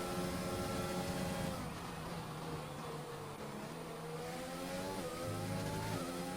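Race cars circling a track in a racing video game at the Brazil round, engine tones droning and shifting in pitch, sometimes overlapping, at a fairly quiet, steady level.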